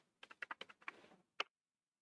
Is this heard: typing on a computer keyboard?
yes